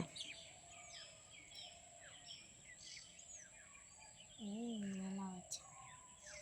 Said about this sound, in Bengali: পাখির কত শব্দ দেখেছেন?